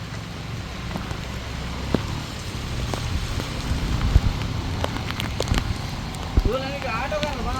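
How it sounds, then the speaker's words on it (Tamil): Heavy rain pours onto a flooded street in Nallur, Jaffna, as a steady wash of close patter with scattered louder splashes, and people talk over it. "நல்லூர் அடியில் இப்படி ஒரு மழை பெய்யுது"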